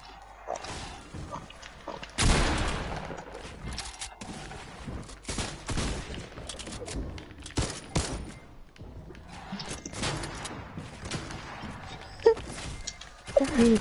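Scattered gunfire in Fortnite, irregular bursts of shots at moderate volume, some sharper and closer, spread across a busy game soundscape.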